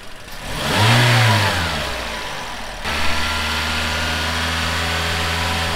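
Car engine during home-service preventive maintenance is revved to about 2,500 RPM, rising to a loud roar then easing back into a steady, droning idle, heard up close.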